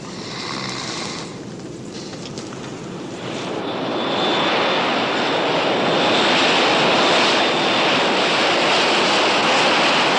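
A fixed-wing airplane's engines drone steadily in flight, a loud, continuous broadband roar that swells and holds for the full stretch with no voices.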